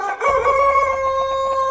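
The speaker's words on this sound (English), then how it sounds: "and rooster" A rooster crows once in a long, loud, sustained call with strong harmonic tones, standing alone without any talk.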